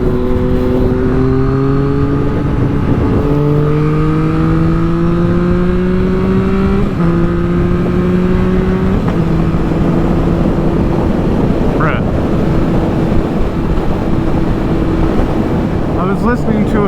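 Motorcycle riding through traffic, its engine droning steadily close-up and stepping up in pitch through the gears, with wind noise throughout and a voice speaking over it.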